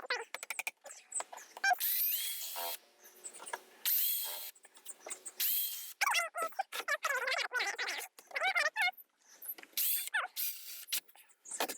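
Holes are punched one after another into the lid of a plastic worm bin, giving a close series of irregular sharp scraping, crackling and squeaking bursts separated by short pauses, with no talking.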